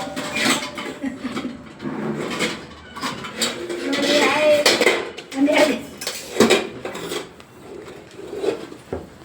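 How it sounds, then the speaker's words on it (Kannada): Pots and dishes being washed by hand at home, with repeated clatters and scraping knocks of metal utensils against each other, close and fairly loud, while a person talks over the work. "ಪಾತ್ರೆ ಬೆಳಗ್ತಾ ತಗೊಯ್ತಾ ಇದ್ದೀನಿ."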